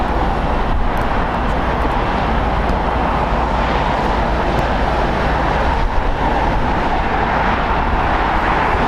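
A Lufthansa airliner in retro livery with a black painted nose cone at LAX gives off a steady, loud broadband jet roar that holds evenly throughout with no talking.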